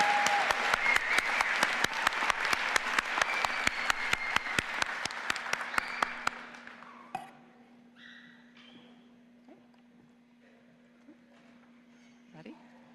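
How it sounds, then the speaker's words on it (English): A commencement audience at Muskingum University gives a long, even round of clapping for master's degree recipients, steady for about six seconds before dying away into a quiet hall with a low hum and a few stray sounds. "Let's have one more resounding round of applause for all of our master's degree"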